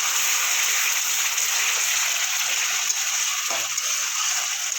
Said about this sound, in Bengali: সামান্য একটু জল দেবো যাতে মশলা না পুড়ে যায়।